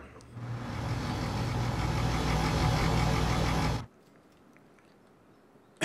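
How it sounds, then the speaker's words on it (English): Several steam lorries in the Transport Fever game run together as a dense, rough, churning engine roar for nearly four seconds, then cut off abruptly into quiet background. "That's an awful sound, though, with all the steam lorries going."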